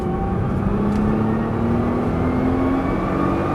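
A Nissan GT-R accelerating on the Issoire race track, its engine note rising steadily in a loud, continuous drone heard from on board.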